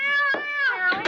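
A cat meows indoors in two or three drawn-out, wavering cries, close and clear, with no words spoken over them.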